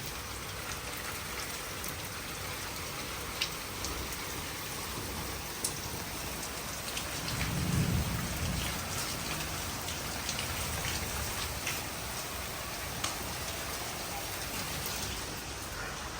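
Continuous village rainfall with strong wind, hissing evenly, moderately loud and close, with scattered drops and a brief swell of low rumble midway; no voices.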